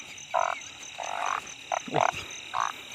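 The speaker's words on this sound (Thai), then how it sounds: "ดูกบหน่อยพี่น้องเลย" A large frog croaks in short, loud bursts, about five calls spaced irregularly, set against a steady high insect-like drone at night during a frog hunt in Thailand.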